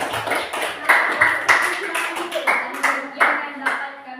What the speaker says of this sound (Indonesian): Kak, beri aplaus dulu.